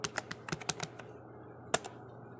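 Quick keystrokes on a computer keyboard enter a name at a program prompt: a brisk burst of close, crisp clicks, a short pause, then two final taps, with no talking.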